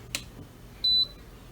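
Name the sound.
air conditioner power-on beep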